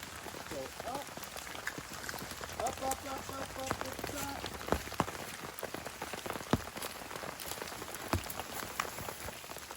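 Rain from a prolonged lakeside storm patters steadily and densely on a camping tarp overhead, with sharper individual drops standing out and someone speaking briefly beneath the drumming.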